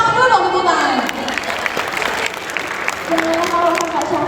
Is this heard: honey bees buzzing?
no